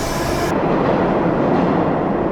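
Moscow metro train running on rails toward Strogino, a loud close rumble of wheels with clickety-clack texture that continues steadily without speech.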